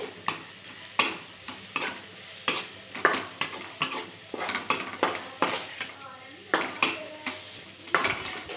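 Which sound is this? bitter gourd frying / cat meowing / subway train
bitter gourd frying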